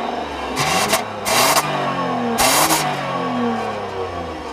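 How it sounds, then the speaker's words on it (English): A 2015 Toyota Camry's 4-cylinder engine accelerates, its drone repeatedly rising in pitch and dropping at each gear change, loud and close with no talk. "the 4-cylinder engine is quite peppy"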